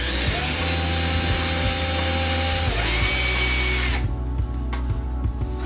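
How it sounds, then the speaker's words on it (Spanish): A power drill with a metal bit boring holes in a Bosch washing machine door, a loud continuous whine and grind that shifts pitch as it cuts, then drops to a lower rumble near the end. "Hacer los orificios con una broca para metal"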